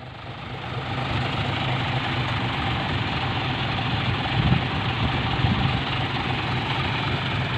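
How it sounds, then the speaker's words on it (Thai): A tractor engine idles in a muddy field near a stuck dump truck, a steady low diesel rumble that stays fairly distant and even, with no talk over it. "รถไถมา"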